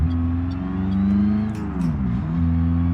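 A Peugeot GTI with a troubled engine revs hard and repeatedly bounces off the rev limiter, a loud close buzzing drone that dips and climbs again, with no voices heard.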